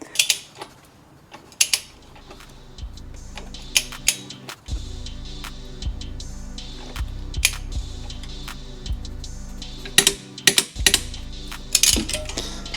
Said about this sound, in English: So I'm gonna torque these down accordingly